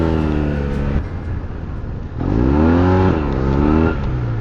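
A Yamaha TMAX 530 DX maxi-scooter with a Termignoni exhaust revs hard in bursts, pitch climbing and dipping, then surging again louder, close by with no voices.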